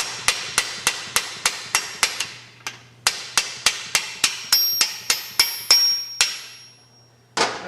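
A hammer strikes a deep socket to drive a bearing onto the shaft of a 4-speed transmission, giving sharp ringing metallic blows in a steady rhythm, about fifteen hits in two bursts with a short pause between.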